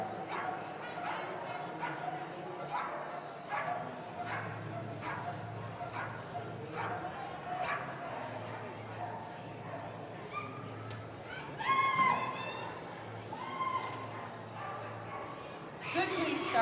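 Many dogs bark and yip at an indoor flyball tournament, sharp overlapping barks repeating steadily through a large, echoing hall while a commentator talks throughout.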